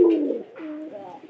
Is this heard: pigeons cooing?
yes